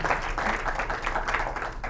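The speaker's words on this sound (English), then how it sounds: "we're giving you a round of applause here" Applause fills a student senate meeting, a steady round of clapping from the group that stays loud and continuous for the whole moment with no gaps.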